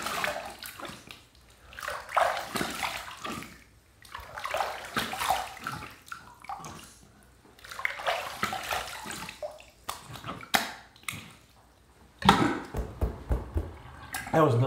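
Water splashes and runs in bursts as a King C Gillette safety razor is rinsed, with repeated sloshing and dripping that start and stop at close range and someone speaking briefly between them.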